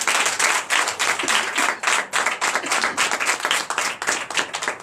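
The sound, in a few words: congregation applauding loudly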